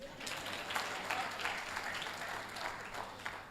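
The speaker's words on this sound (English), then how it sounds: "Clap for me," An engineering faculty audience claps throughout, a continuous crowd patter of hands at moderate distance with a faint speaking voice mixed underneath.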